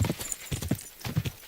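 Hooves of a horse galloping in Kingdom Come Deliverance II, rapid clip-clop beats in uneven bursts, close and fairly loud, with no talk over them.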